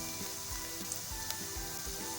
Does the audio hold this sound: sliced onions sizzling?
yes